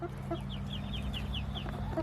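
Hens clucking in a backyard coop, a run of short repeated chirping clucks close by over a low steady hum, with no talking.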